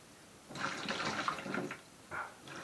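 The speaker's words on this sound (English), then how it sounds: "So we're going to drain these off" Water from a batch of pickling onions drains into a kitchen sink, a rushing, splashing pour that runs for about a second, pauses, then briefly resumes.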